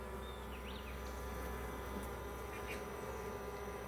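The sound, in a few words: bees buzzing inside a hive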